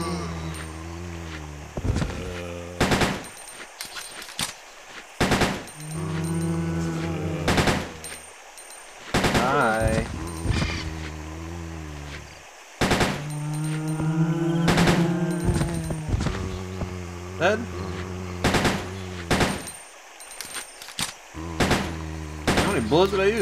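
Gunfire in Resident Evil Code: Veronica X comes as sharp, loud shots spaced irregularly over a droning, tonal game soundtrack, with some quick clustered bursts near the middle and a voice talking at times.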